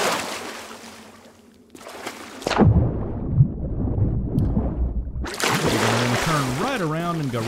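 Loud sloshing and rushing water in the Sea of Thieves game, a dense churning wash that cuts out briefly, returns as muffled underwater rumble, then bursts back bright and full, with someone talking over it.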